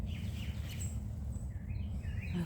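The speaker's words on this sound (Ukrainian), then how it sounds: "Пташки співають." Songbirds chirp and sing outdoors at a bird sanctuary, faint and distant, with thin high calls scattered over a steady low outdoor rumble.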